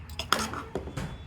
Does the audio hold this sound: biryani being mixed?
yes